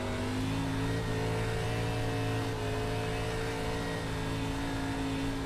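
A stock car engine in the iRacing sim, ARCA Menards Series at Knoxville, drones at a steady high pitch with the throttle worked gently, constant and fairly quiet.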